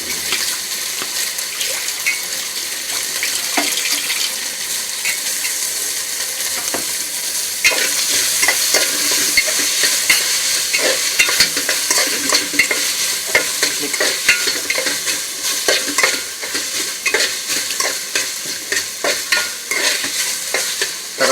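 Tomatoes tossed into a hot pan for a bachelor-style palav sizzle loudly. Busy spoon-and-pan stirring clatters throughout, and it grows more vigorous partway through.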